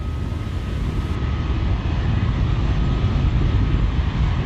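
A SpaceX Falcon 9 rocket in flight, a steady, loud, broadband roar with heavy low rumble that holds constant throughout, with no voices.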